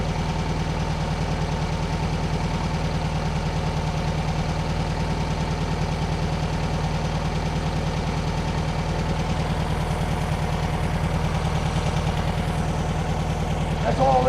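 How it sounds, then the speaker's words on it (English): A 1971 VW bus engine, freshly tuned up with a new carburetor after sitting for over two years, idles steadily and evenly, close by. "Idle sounds good, engine sounds happy."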